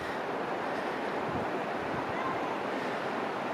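Niagara River water flowing through the gorge at Devil's Hole, Niagara Falls, NY, a steady, broad rushing wash that stays constant throughout, with some wind buffeting the microphone.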